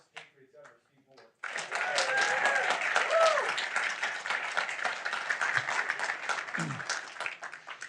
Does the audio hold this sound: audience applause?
yes